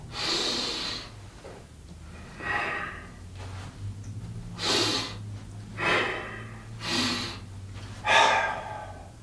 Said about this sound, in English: Here's the in breath.